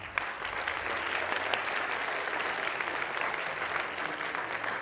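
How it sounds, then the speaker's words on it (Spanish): Steady applause from a studio audience at a Mexican science program broadcast from CCH Oriente, dense clapping holding evenly throughout without a voice over it. "Un aplauso para ellos, por favor"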